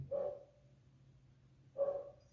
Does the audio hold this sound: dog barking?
yes